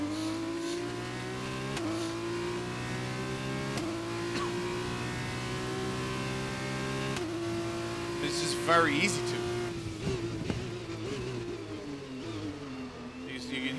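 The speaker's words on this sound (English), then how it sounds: "You can hear the slide, the skid there." Car tires skid and slide in an F2 car in the F1 2021 racing game at Austria, a squealing scrape rising over the steady engine note, while someone talks through much of it.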